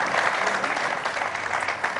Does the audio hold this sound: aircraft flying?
no